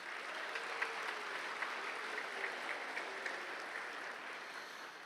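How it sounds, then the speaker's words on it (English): Parents applauding at a Saint Mary's graduation ceremony, a steady wash of clapping heard from a distance and fairly faint, holding evenly throughout with a few sharper individual claps standing out. "So give yourselves a round of applause."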